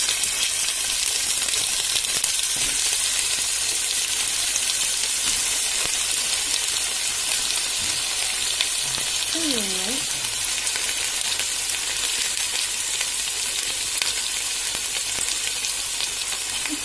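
Two chopped onions frying in hot oil for an Indian egg curry with tamarind sauce, a loud, dense, steady sizzle that carries on unbroken, with a faint brief tone in the middle.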